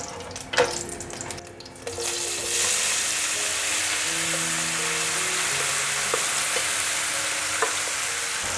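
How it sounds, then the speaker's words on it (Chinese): Marinated king oyster mushrooms drop into hot oil with star anise and cinnamon bark, setting off a sudden, loud, steady hissing sizzle after a few brief clatters. "稍微炒一下就好，可以把刚刚腌的料放进来炒了。"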